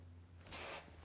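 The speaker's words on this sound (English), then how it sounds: "To finish this, I need a little bit of hairspray." Hairspray is sprayed onto a finished updo in one short, bright hissing burst of about a quarter second, close and clear against a quiet background hum.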